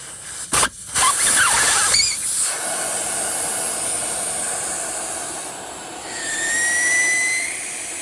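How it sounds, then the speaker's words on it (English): Air escaping from the rear tire valve of a Yamaha MT-03 motorcycle as the valve core is slowly unscrewed, a loud, steady close hiss after a few brief clicks at the start, with a whistling tone rising near the end. "Kind of slowly cracking the threads, let more and more air out."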